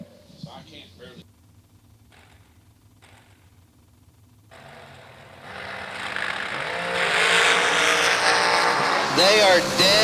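Drag race cars launch and run down the strip at an East Coast event, a loud roaring engine wash that builds from a quiet start and stays sustained, with an announcer talking over it.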